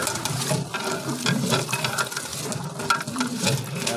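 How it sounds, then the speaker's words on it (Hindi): Spoon stirring a large pot holding 30 kg of wedding-style kheer rice pudding, a steady close churning slosh with repeated scraping strokes against the metal pot. "मुसलसल इसको चम्मच हिला रहे हैं ताकि इसमें जो चावल का डाला हुआ दाना वो नीचे न डाल जाए"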